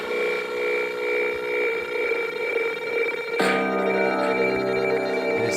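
Telephone-like synth tone in electronic music production, a ringing, phone-bell timbre with delay repeats that pulses steadily, then jumps to a brighter, denser ringing layer partway through.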